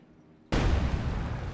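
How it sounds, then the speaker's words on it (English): In the video game Company of Heroes 2, an explosion bursts abruptly after half a second of near silence, then holds as a loud, dense roar of debris and rumble that slowly fades, with no talking. "And explosion."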